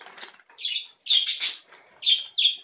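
A budgerigar being handled lets out a series of short, sharp chirps and squawky bursts, close and fairly loud, with brief gaps and faint rustling between calls.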